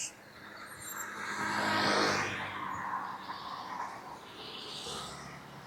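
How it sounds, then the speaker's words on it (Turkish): Cars pass by outdoors in turn, each swelling and fading as a soft whoosh of tires and engine, moderately distant, with no talk. "Arabalar da geçiyor şu an"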